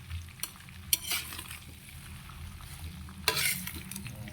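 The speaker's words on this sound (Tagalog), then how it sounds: "Ihalo-halo lang natin yan mga kapari." A spatula works a cassava mixture frying in a pan, steady soft sizzle with scattered scraping clinks of utensil against metal.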